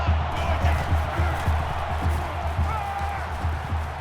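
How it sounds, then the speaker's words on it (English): Stadium crowd roar in the NCAA 14 college football video game, Michigan at Oklahoma, a steady broad wash of cheering with faint rhythmic thumps underneath, continuous and moderately loud throughout. "The crowd at this stadium, always a factor in a football game."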